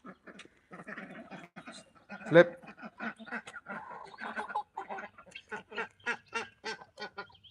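A young rooster and a flock of chickens cluck and squawk in short, irregular bursts, close by and moderately loud, with a voice talking briefly among them.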